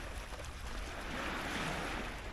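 Choppy sea waves wash in a continuous broad roar, steady and fairly close, with wind noise and no voices.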